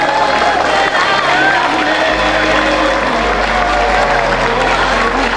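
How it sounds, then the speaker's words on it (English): Loud, dense applause fills a hall at a school science and art exhibition event, mixed with crowd noise and some cheering, with a low hum running under it. "Please give him a huge round of applause."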